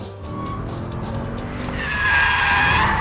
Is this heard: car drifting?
yes